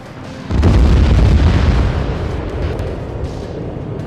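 Cluster munitions exploding in the Arma 3 military game, a sudden loud blast followed by a long rumbling roll of overlapping detonations that slowly fades.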